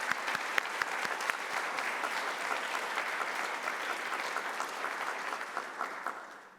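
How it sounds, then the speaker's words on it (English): Audience applause honoring educators in a three-year research project covering Taiwan, Israel and Northern Ireland, with steady, moderately distant clapping that stays even and slowly fades toward the end. "let's give another round of applause to all the educators that have been participating in this"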